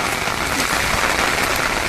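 Heavy rain pours down in a dense, steady hiss with no pauses.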